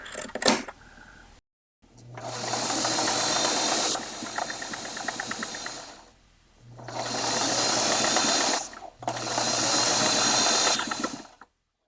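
Sewing machine stitching a seam on a drop cloth canvas apron, three sustained runs of steady mechanical whirring and rattling separated by short pauses, close up with no voices.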